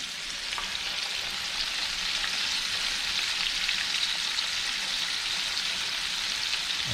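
Pieces of redfish, cut into fish fingers, fry in hot grease with a steady, loud, crackling sizzle that holds unbroken throughout, close up and with no voices.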